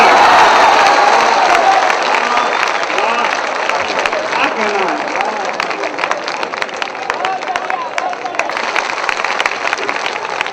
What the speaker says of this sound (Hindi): एक एक हाथ नहीं रुकना चाहिए ताली बजाए बिना